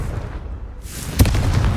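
A Confringo blasting spell explodes in Hogwarts Legacy, a single sharp burst that booms out of a low rumbling background and decays into a ringing tail.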